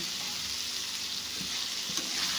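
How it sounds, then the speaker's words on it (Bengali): Fried eggs frying in hot oil with spice masala, a close, steady sizzle with faint stirring and scraping, and no voices. "তো এবার আমি দিয়ে দিচ্ছি এর মধ্যে ভাজা ডিমগুলোকে, মশলার সঙ্গে ভাজা ডিমগুলো দিয়ে একটু ভেজে নেব"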